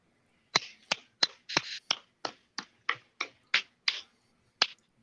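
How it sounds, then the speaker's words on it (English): A cigarette being packed by tapping it against a surface, about eleven sharp, close taps in an uneven rhythm, each a crisp snap-like knock. "That was me packing my cigarette."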